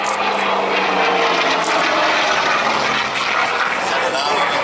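A Second World War-era aircraft with a 2,000-horsepower Pratt & Whitney R2800 radial engine flies a display at the Wings Over Illawarra 2021 airshow, its loud droning roar continuous while a commentator talks over it.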